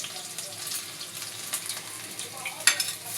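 Spring onion and garlic sautéing in oil for pancit, a continuous close frying hiss with stirring scrapes and occasional sharp crackles, a voice faintly in the background.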